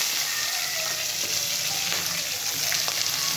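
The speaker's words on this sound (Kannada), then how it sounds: "ಈಗ ನಾನು ಕ್ಯಾಪ್ಸಿಕಮ್ ಹಾಕ್ತಾಯಿದ್ದೀನಿ" Capsicum and onions fry in a pan, producing a continuous, soft, fairly faint sizzle with light crackles throughout.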